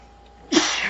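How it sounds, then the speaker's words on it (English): One sudden, sharp sneeze bursts out close by after a moment of near silence. "Oh, excuse me, I sneezed, sorry."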